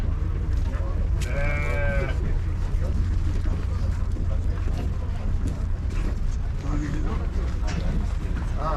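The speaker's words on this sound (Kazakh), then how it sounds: "Бір қора қойдың бәрі." Sheep bleat at the Uzynagash livestock market, a few clear cries rising above a dense, steady murmur of crowd chatter and people talking close by.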